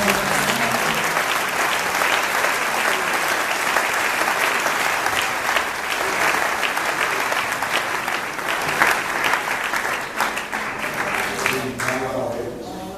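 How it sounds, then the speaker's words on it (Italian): A church congregation claps loudly and steadily at an Italian-English bilingual service, a dense roll of applause that fades slightly near the end. "Let's give another hand for Jesus that gave the New Testament."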